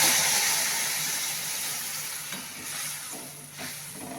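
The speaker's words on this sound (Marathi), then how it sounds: "आता आपण उकळलेलं पाणी टाकून घेऊ" Boiling water poured into a hot pan of roasted wheat rava for spicy upma, a soft sizzling hiss that gradually eases, close but fairly quiet, with a few faint clinks near the end and no talk.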